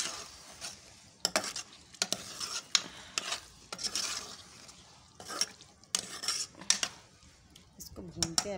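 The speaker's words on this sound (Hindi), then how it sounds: "इसको भूनते हैं अभी 2 मिनट के लिए" Taro root and eggplant are fried and stirred in a pot, giving bursts of spoon scraping and clinking against the metal over a faint, low sizzle, with short quiet gaps between strokes.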